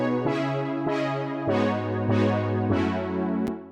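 Warm Whoa, a polysynth brass preset from Expand in FL Studio, plays a rich, bright chord progression of about six sustained stabs, each swelling then fading, with a sharp click near the end and no voice.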